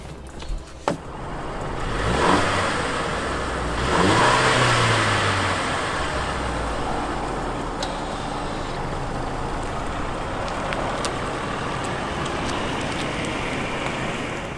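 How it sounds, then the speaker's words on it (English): A 2017 Mercedes-Benz C300 4matic drives along, its engine rising under a steady broadband road and rain-like hiss that stays moderately loud throughout, with no one talking. "sending off in the Mercedes Benz C300"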